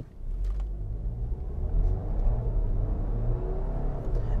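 A 2020 Audi Q5 45 TFSI Quattro with a 4-cylinder turbo engine pulls away from a stop, heard from inside as a smooth, low, steady engine rumble that swells gently and stays subdued.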